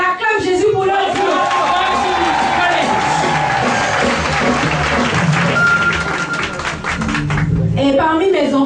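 A church congregation at a worship service applauds and cheers in dense, continuous clapping with crowd voices, while someone speaks over it.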